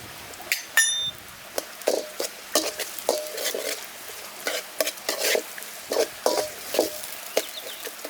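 Small pieces of peeled garlic and shallots sautéing in oil for Tamil fish curry (meen kulambu), a soft sizzle with repeated scraping stirs of a ladle against the pan in an uneven rhythm.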